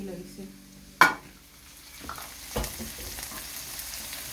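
Curry leaves hit hot oil with a sharp spitting burst, then settle into a quieter, close sizzle with a second brief flare a moment later.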